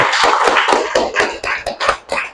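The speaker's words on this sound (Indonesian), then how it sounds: "Kasih tepuk tangan untuk kita semua" A group of people in a gathering claps together in a loose, uneven rhythm, the close, sharp hand claps loud and continuous with brief dips between bursts.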